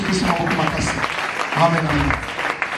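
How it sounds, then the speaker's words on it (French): A church congregation claps and cheers loudly for the Lord in a dense, continuous wave, with a preacher's voice speaking over the applause. "Acclame très fort pour le Seigneur"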